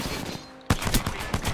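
Rapid gunfire from the video game Apex Legends erupts suddenly after a quieter stretch, a dense loud burst of repeated shots close up with no voices.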